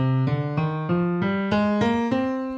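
A sustained keyboard tone steps upward through a minor scale, eight evenly spaced notes played cleanly and close, with no talking.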